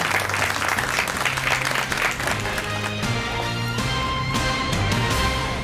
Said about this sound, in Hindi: जोरदार तालियों के साथ इस्तकबाल करें।